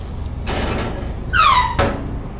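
A hinged door swings open with a sharp, rising squeak partway through, plus a couple of short clunks and rattles nearby against a steady kitchen background hum.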